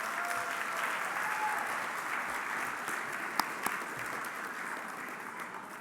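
Steady applause from an audience at a health awards celebration fills the whole stretch, a dense wash of clapping that holds at an even level without fading.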